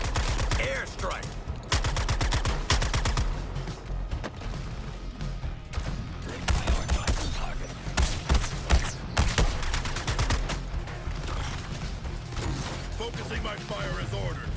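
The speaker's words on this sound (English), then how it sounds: "Airstrike!" Rapid, loud bursts of automatic gunfire and heavy impacts rattle through a Suicide Squad: Kill the Justice League airstrike, near-continuous and dense for the whole stretch, with game voices talking underneath.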